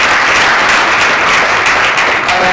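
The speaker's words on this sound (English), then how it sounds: "Can we clap for the ladies?" A graduation audience applauds the women graduates at a banking and finance institute ceremony, producing dense, loud, sustained clapping from a large crowd that fills the whole stretch without a break.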